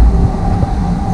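A Delhi metro train rumbles steadily from inside a carriage, with a loud continuous low roar and a faint tonal whine throughout.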